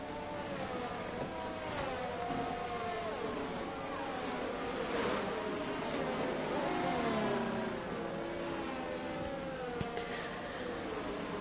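Race cars idle and rev their engines on the starting grid of a racing video game, a continuous droning, wavering engine hum throughout with several overlapping tones, steady and fairly loud.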